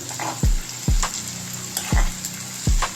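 Chopped onions hitting a hot pan of oil for a dry egg masala, with four sharp sizzling bursts that each flare loudly and then settle into a softer frying hiss.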